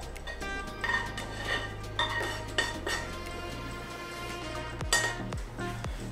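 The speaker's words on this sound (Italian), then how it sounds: "Andiamo a mettere la metà del riso che abbiamo cucinato nel piatto." Clinks and scrapes of a utensil against a plate as cooked rice and meat are spooned onto it, several sharp irregular taps close up over a low background hum, no talk.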